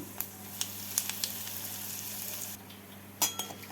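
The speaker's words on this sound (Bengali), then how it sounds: "এবার দিয়ে দিচ্ছি ফোড়ন শুকনো লঙ্কা তেজপাতা জিরে" Dry red chillies, bay leaf, cumin and asafoetida tempering in hot oil left over from frying potatoes for vegetarian Kashmiri aloo dum. They give a steady close sizzle with a few light utensil clinks and a brief lull, and no talking.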